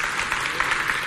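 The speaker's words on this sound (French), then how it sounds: "Est-ce qu'on peut applaudir notre DRH?" An audience applauding at a ceremony, a dense steady wash of clapping from many hands, brief and fairly loud.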